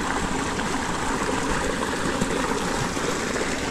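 Water draining out of a rice paddy, a steady, close, rushing flow that holds even throughout without pauses or voices.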